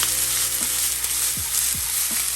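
Onions sizzle steadily in a hot pan, with a few scraping stirs of a utensil breaking through the constant frying hiss.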